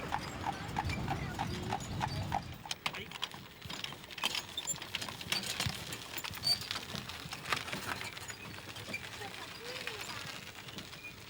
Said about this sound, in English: The only sound is the perpetual rhythmic clopping of horses' hooves striking the ground.